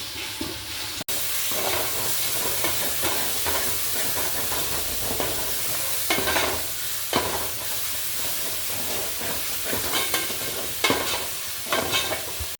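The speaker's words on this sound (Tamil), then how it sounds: "இஞ்சி பூண்டு நல்லா வதங்கி போட்டு இந்த தக்காளி எல்லாம் போட்டுக்கலாம்" Ginger, garlic and tomatoes sauté in a pan for a Sunday lunch curry, giving a steady, close sizzle and hiss with repeated scraping stir strokes throughout, with no talk.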